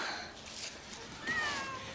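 A domestic cat gives a single short, close meow over soft background noise.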